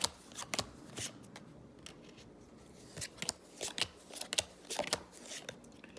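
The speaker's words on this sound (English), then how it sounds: "Just grabbing all my cards here." Playing cards for a Star Trek Frontiers board game are gathered and shuffled close up, a series of crisp riffling bursts and soft taps separated by short pauses.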